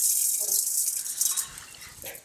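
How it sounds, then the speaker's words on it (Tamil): Water poured into a pot holding a kilo of wheat to soak it for homemade Tirunelveli halwa, a bright continuous close gushing and splashing that tapers off near the end. "மேலே வரைக்கும் நல்ல தண்ணியை ஊற்றி"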